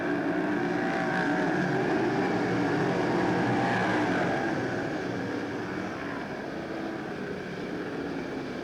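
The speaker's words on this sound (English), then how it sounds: "These 360 cubic inch Chevrolet engines are, of course, prompted by the gear ratio that's put in the rear differential" Sprint cars with 360 cubic inch Chevrolet engines race at Silver Dollar Speedway, a dense continuous engine roar filling the whole stretch, loud and steady before easing slightly toward the end.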